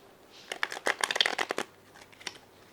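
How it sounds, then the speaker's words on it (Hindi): A deck of playing cards shuffled by a magician, a quick close riffle of rapid flutters lasting about a second, followed by a few softer taps as the cards settle; no one speaks. "लेकिन पहले शफल कर देते हैं।"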